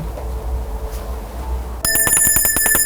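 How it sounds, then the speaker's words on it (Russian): A small bell starts ringing partway through, a rapid run of bright metallic strikes that stays loud and steady over a quiet room background until the end. "Колокольчик."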